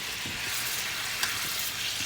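Steak searing in a hot pan gives a steady, loud, close sizzle that holds evenly throughout with no pauses.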